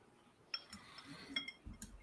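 Glass clinking as a drink is picked up: a few light, bright taps spaced over a couple of seconds, quiet and close against a faint room hush.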